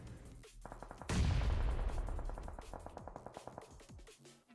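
Gunfire in a battle royale match: a sudden heavy burst of shots, then a rapid string of sharp reports that fades out over a few seconds, no voices.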